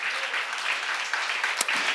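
Church congregation at a seminar clapping together, a short burst of dense applause in a large room.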